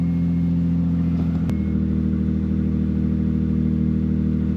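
A car engine idles loudly and steadily just after starting, a dense unbroken drone with one brief click partway through, close up and alone with no voices.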